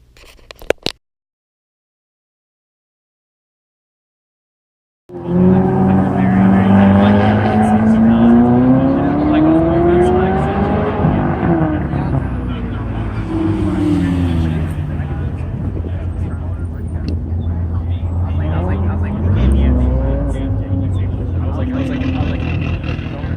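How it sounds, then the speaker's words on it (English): Race car on a track during a race day, engine roaring close and loud with rising and falling revs as it accelerates, after a brief burst and a few seconds of silence at the start. "we'll roll into David's video, where he's squealing the tires"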